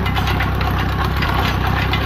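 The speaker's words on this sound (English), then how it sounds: "First time driving back in Wisconsin. Tractor's back home." A vintage Allis Chalmers 6-12 tractor engine runs while driving, giving a loud, close, steady low rumble with a rapid knocking pulse and no pauses.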